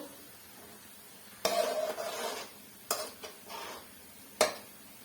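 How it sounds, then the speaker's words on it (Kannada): Ingredients for a homemade hair oil frying crisp in oil over medium heat: a quiet background sizzle broken by three loud bursts of scraping, stirring and pan clatter, with no talking. "ಗರಿ ಗರಿಯಾಗಿ ಫ್ರೈ ಮಾಡ್ಕೋತೀವಲ್ಲ ಅದೇ ರೀತಿಲೇ ಇದು ಕೂಡ ಫ್ರೈ ಮಾಡ್ಕೊಬೇಕು"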